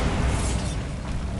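A Bombarda blasting spell in Hogwarts Legacy detonates in a quick, rumbling burst that fades within about a second.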